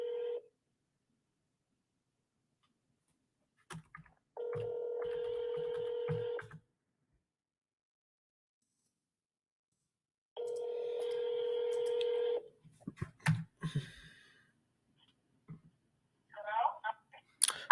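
A phone line rings during an outgoing call, giving a steady tone in long timed bursts separated by silence. A voice speaks briefly between the rings, with some clicks toward the end.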